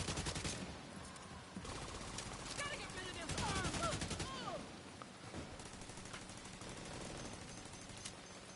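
Gunfire in The Division 2 in the Battery Park area, rapid automatic bursts crackling continuously at moderate level, with a denser, louder stretch of shots midway and speech mixed in.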